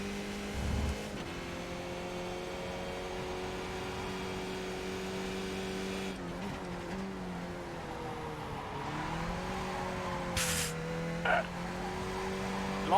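Rear tyres of a Skip Barber race car in iRacing spin and skid under a steady, droning engine note that shifts pitch midway, with short sharp squeal bursts near the end.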